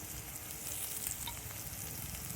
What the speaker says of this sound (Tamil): இதோட நல்லா வதக்கிடலாம்.